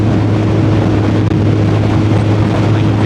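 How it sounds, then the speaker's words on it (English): A Suzuki Hayabusa Gen 2 motorcycle engine drones loudly and close under heavy wind rush, a sustained low hum that holds steady with no clear gear changes. "I can start off in first gear and just crank on it all the way and bring it up into the red line of every single gear"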